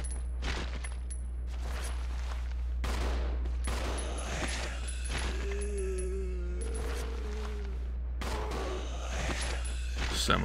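Bursts of gunfire from Resident Evil Zero, with rapid volleys and single shots across the stretch, loud over a steady low hum, with a player talking in between.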